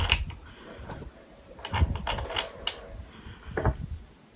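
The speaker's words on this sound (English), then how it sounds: "Fit, pull the screws in." A hex key tightens screws on a KoKoX Cowboy eBike's Ursus side and middle stand, giving quiet metallic clicks and short ratcheting bursts close up, with no talking.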